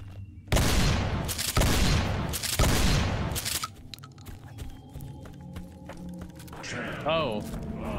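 In a video game set on the Texas border, a shotgun fires a burst of loud, crashing blasts in quick succession, then the noise drops to a quieter scene with scattered game effects, and someone talks briefly near the end.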